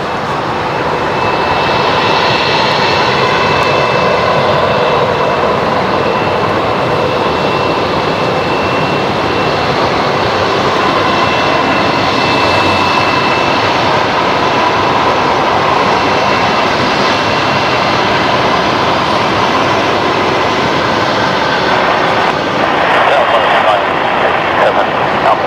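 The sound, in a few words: airliner engines at Brisbane Airport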